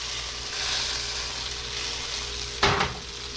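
Shredded potatoes fry in a skillet of hot oil, a steady close sizzle and crackle running throughout, with a brief louder burst of spatter near the end.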